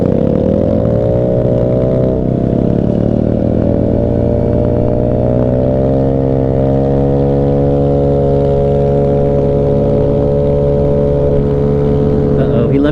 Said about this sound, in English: We're just gonna drive around in a mini bike